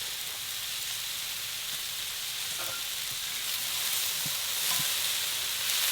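Vegetables with garlic sizzle on a grill after a spatula toss, a steady close frying crackle with soft scraping taps and a slight swell toward the end.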